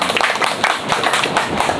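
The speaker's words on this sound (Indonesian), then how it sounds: "Tepuk tangan untuk KKM Majenang." A crowd claps for the KKM Majenang group at a school farewell-and-welcome ceremony, with brisk, loud, close clapping that stays continuous and fairly even throughout.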